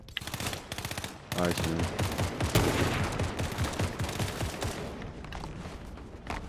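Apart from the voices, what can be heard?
gunfire in the video game Fortnite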